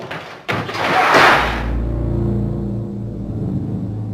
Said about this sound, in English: That sound when he slams the door